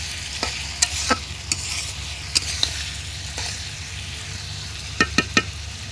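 Small shrimp and potato greens frying in a pan give a steady, close sizzle, broken by repeated light scrapes and taps of a spatula stirring.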